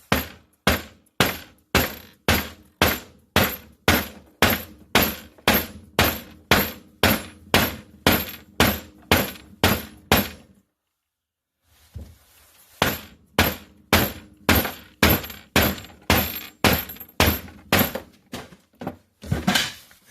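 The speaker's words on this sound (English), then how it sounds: "as you keep striking it with the sledgehammer, it wants to loosen up and move around" Sharp, loud sledgehammer blows ring out on copper in a garage while poker chips are struck, a steady rhythm of about two hits per second with a short pause midway before the pounding resumes.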